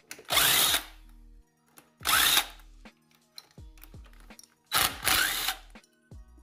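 Power tool removing 10 mm sprocket bolts on a Chinese ATV: three loud, short whirring bursts with pauses between, plus clicks and small metallic clanks, close up.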